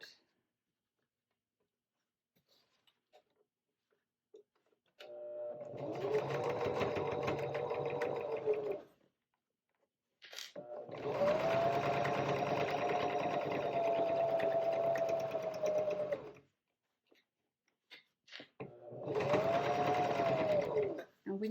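A sewing machine pieces quilt blocks in three sustained runs of steady, ticking whir separated by quiet pauses, close and clear, with no one speaking during the stitching.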